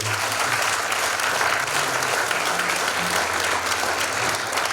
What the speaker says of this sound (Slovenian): jaz predlagam, da zaploskate gospodu Andreju